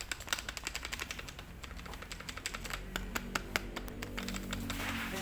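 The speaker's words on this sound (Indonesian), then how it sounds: "kita ketok-ketok aja supaya dia masuk lagi aja nih" Light, quick taps knock on a Kyocera M8130/M8124 developer unit so its magnetic powder settles, a brisk run of small, close clicks over a faint steady background.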